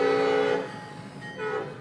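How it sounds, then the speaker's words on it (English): A Norfolk Southern train passes the Indiana Avenue crossing in Anderson, Indiana, its horn blaring loudly for about half a second, then sounding again more briefly over the rumble of the passing train. "And here is our train."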